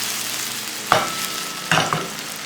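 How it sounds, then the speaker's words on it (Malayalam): Small chicken pieces fry in a pan for Irani pola, a steady sizzle broken by two or three sharp scrapes and clatters of a spatula stirring them. "നമുക്കിനി ഇത് നല്ലവണ്ണം ഒന്ന് ഫ്രൈ ചെയ്തെടുക്കാം."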